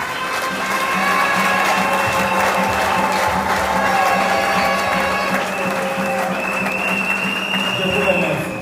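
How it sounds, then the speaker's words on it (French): A crowd at an outdoor political party's 60th anniversary gathering gives sustained, even applause, mixed with voices and tonal background sound. "nous allons tous les applaudir comme c'était déjà fait"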